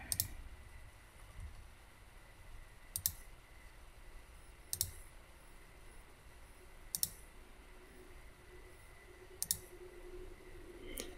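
A computer mouse clicks five times at a slow, steady pace, each click crisp but faint over a soft background hiss, with no talking.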